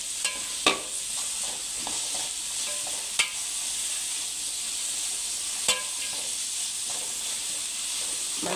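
Carrot and mixed vegetables for masala veg pasta cook in a pan on high flame, giving a continuous loud sizzle broken by a few sharp clicks from stirring.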